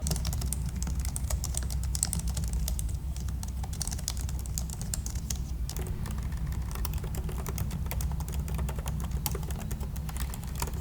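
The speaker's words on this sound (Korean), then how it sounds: "이 제품이 사무용 키보드라고 불리는 이유 중 하나가 소음이 적다라는 거예요" Steady, soft typing on a Logitech MX Keys S office keyboard, with rapid light key clicks throughout, close and fairly quiet, with no voices.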